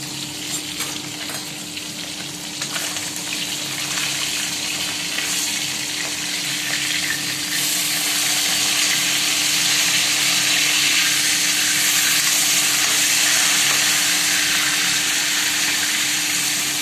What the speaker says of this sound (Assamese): এয়া হ'ল মাছ ভাজি আছে, মাছখিনি